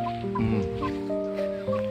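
A Pekin chicken chick clucks and peeps in short, bright repeated calls, close and clear, with a few soft chirps in quick succession.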